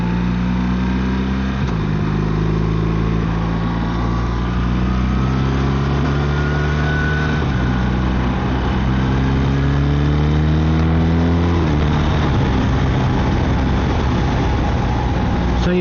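A BMW R1300RT motorcycle engine pulls steadily while being shifted through the gears in manual, with rising engine tones dropping at each of several clean upshifts, loud and close over constant wind rush.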